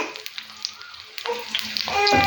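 Fish frying in oil in a covered pan on a Kerala stove, soft crackling pops building into a louder, denser sizzle toward the end, with scattered clicks.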